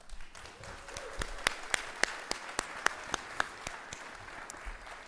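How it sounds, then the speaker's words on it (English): Scattered, sparse clapping from a small group at a graduate school graduation ceremony, sharp individual claps spaced unevenly, fairly faint and without voices. "Now give yourselves a round of applause."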